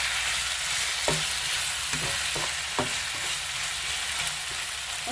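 Tomato sauce for vegetable spaghetti fries in a pan with a steady, close sizzle while a spoon stirs it, giving several soft knocks and scrapes against the pan.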